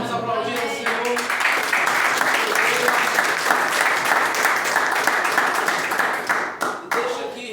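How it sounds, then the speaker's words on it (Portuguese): A church congregation at a family celebration and communion service applauds loudly and steadily, dense clapping filling the room for several seconds before easing slightly near the end. "Vamos aplaudir o Senhor."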